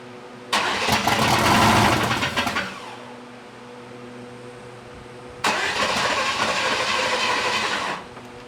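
A turbocharged car engine cranks in two bursts, each a loud rough mechanical whir lasting a few seconds, with a quieter idle-like hum between them and no voices.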